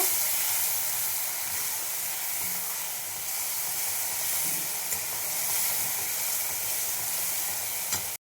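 Paste of mustard, ginger, tomato and green chili sizzling steadily in a pan with fried potatoes, a dense continuous hiss with faint stirring, close and fairly quiet.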